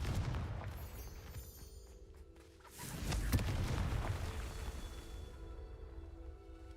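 Confringo blasting spell from Hogwarts Legacy going off as a single booming explosion partway through, rising out of quieter game ambience, with a rumbling tail that fades slowly.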